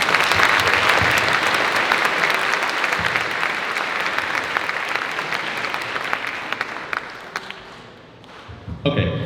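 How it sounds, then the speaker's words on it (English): Dense, loud applause from an audience for team members at a university racing team's car unveiling, steady for most of the clip before thinning out near the end. "if you could give them a huge round of applause for that"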